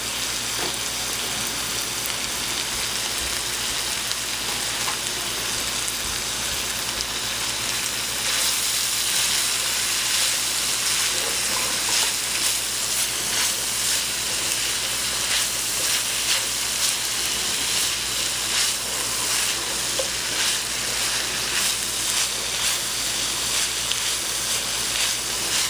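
Vegetables and carrots fry in a pan with a steady, dense sizzle that continues throughout and never breaks.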